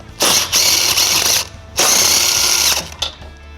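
Ratchet wrench with a 14mm socket spinning off nuts on a 2023 Toyota Sienna, two loud, close bursts of rapid clicking of about a second each, separated by a short pause, followed by a brief final click.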